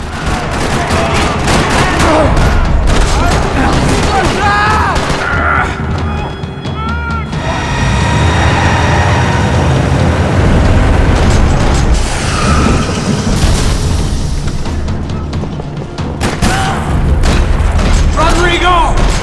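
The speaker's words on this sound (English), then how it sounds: "Another parking lot rattling with gunfire." Heavy gunfire and explosions in a parking lot in the Max Payne 3 video game, loud rattling bursts and booms running continuously, with voices shouting among the shots.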